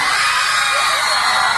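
A crowd of girls shouting and screaming together at a programme, a loud dense high-pitched yell held steadily across the whole moment.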